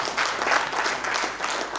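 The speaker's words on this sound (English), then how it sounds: "Please give a big round of applause for that." A crowd applauding, a dense wash of clapping that holds steady throughout.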